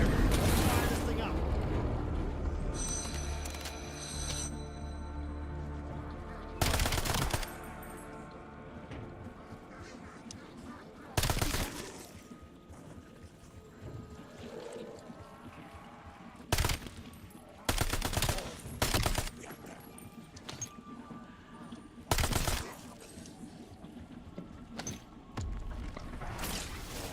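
Machine gun fire in Black Ops 7, with several loud automatic bursts and single shots spread across a noisy game soundscape, some bursts far apart and others in quick succession.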